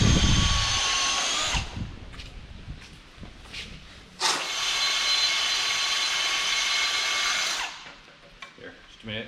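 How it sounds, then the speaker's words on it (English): A power drill bores into metal on a Chevy 5.3 LS LM7 engine in a home garage, two sustained high whining runs with a pause between, loud and close, with brief bursts of talk around them. "It's just like drilling out spot welds."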